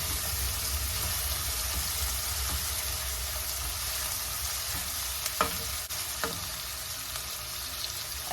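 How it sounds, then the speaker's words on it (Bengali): Onion, tomato and green chilli sizzle and fry in a pan with steady hissing while a utensil stirs and scrapes them, giving occasional knocks against the metal. "পেঁয়াজ, টমেটো, কাঁচা লঙ্কা এগুলোকে ভালো করে নেড়ে চেড়ে গোল্ডেন ব্রাউন করে নেব।"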